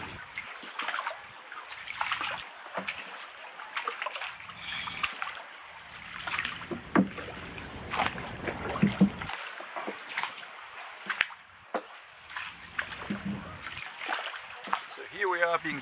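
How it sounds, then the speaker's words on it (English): Paddles dip and splash as crews row a boat through a narrow channel in the Mekong Delta, with irregular nearby splashes and trickling water under occasional voices. "here we are being paddled somewhere in the Mekong Delta by two really hardworking crews"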